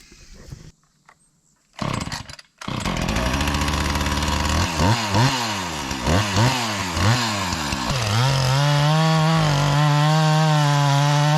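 A chainsaw starts up and revs through several rising and falling pulls, then settles into a loud, steady roar as it begins milling logs at an abandoned mountain cabin site.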